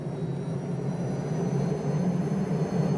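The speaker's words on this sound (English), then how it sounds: "I'm slowly increasing throttle now and wait for the rotors to engage." The SA 315b Lama helicopter in X-Plane 12 spools up as throttle rises, a steady turbine whine and rotor drone with faint high-pitched tones, holding close and constant throughout.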